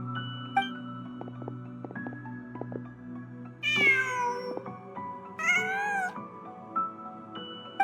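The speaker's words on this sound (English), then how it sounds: "Just a cat." A cat in the Genshin Impact game gives two drawn-out meows, clear and close, set against a calm background of sustained musical tones and soft plucked notes.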